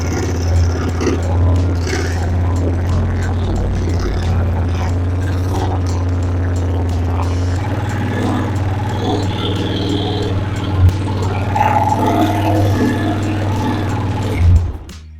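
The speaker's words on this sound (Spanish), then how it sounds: "yo lo que oigo es que está muy acelerada, tiene muchas revoluciones" An Italika DM 200 motorcycle engine runs at high, steady revs, a continuous close hum with a slight change partway through and a few faint clanks near the end.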